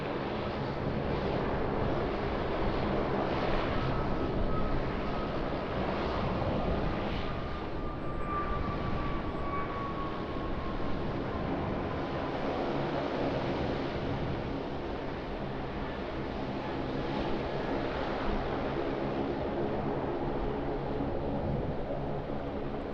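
AirAsia Airbus A330-300 airliner at Sydney Airport, a continuous jet engine roar with a faint tonal whine, mixed with wind noise, steady and moderately loud with no voices.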